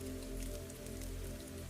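Soft rain falls overhead onto a greenhouse at night, a steady, gentle patter of drops with low background hum and no voices.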